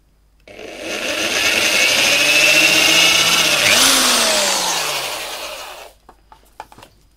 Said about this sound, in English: got a 2mm drill here.